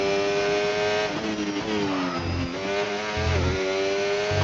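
Williams Formula 1 car on a qualifying lap in Canada, engine screaming loud and close with shifting pitch as it accelerates, drops through gears and climbs again, continuous throughout.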